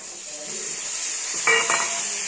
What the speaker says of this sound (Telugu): ఇప్పుడు వీటిని కూడా బాగా ఫ్రై చేద్దాం